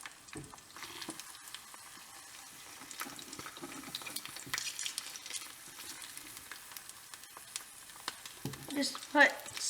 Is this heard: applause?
no